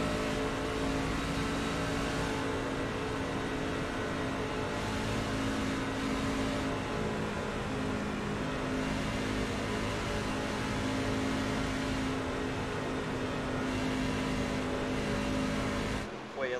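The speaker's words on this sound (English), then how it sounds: "you listen to that throttle rhythm there" Onboard engine of a NASCAR Truck Series race truck at Daytona International Speedway: a loud, steady, buzzing roar that runs close and continuous, with subtle throttle lifts and reapplications shifting its tone before an abrupt cut at the end.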